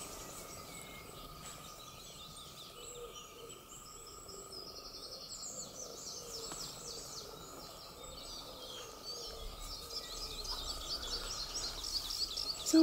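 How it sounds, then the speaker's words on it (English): Birdsong fills a solstice morning among ancient standing stones, with steady chirps and calls and a soft insect-like buzz running throughout, carried over a low outdoor ambience that rises slightly toward the end. "I let the birds speak."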